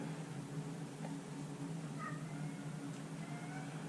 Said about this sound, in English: And cat sounds.